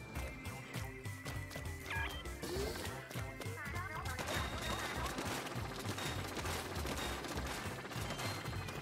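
Rapid shots fired in the video game Splatoon 2, dense repeated bursts layered with game music and effects at moderate volume.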